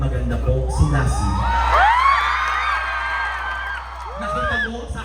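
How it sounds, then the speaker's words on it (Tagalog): Audience at a live show cheering and whooping loudly, with rising shouts and yells from many voices over a dense crowd noise that dips briefly then swells again. "Pumalakpak po na may kasama yung nagsasabing maganda po, si Lassie."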